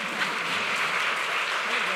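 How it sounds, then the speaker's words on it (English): A church congregation at a traditional morning service applauds in an even, continuous wash of clapping, soft and somewhat distant, for about two seconds. "Church, will you welcome our adult choir this morning with a round of applause?"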